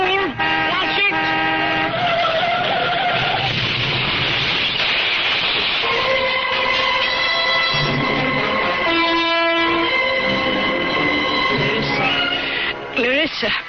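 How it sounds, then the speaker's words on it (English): In a 1970s radio mystery drama, a car horn blares in sustained tones amid engine and road noise, with shouting voices and dramatic music under the close, loud sound effects. "Clarissa, was that the sound of a car crash?"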